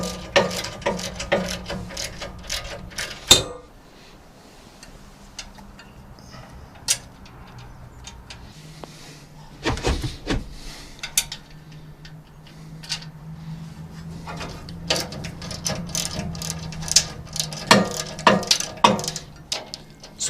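A hand ratchet clicks in irregular bursts while tightening a nut onto a bolt on a sawmill log support, sharp close ticks and pawl clatter with quiet gaps between strokes.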